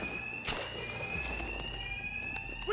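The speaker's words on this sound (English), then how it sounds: "these thugs can't hear a thing over the alarms" An alarm rings without pause in the Batman Arkham Knight video game, a loud, steady electronic tone that holds throughout, broken by a few brief thumps and clanks.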